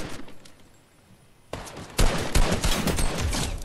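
Gunfire in the video game Fortnite, a few sharp, loud bursts that start after a quiet stretch and keep going in rapid volleys, with no talking over them.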